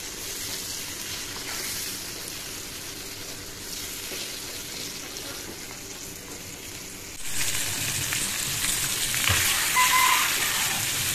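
Fish pieces for a fish curry with sponge gourd fry in a pan, giving a steady soft sizzle that grows louder and more crackly partway through, close by with no talk.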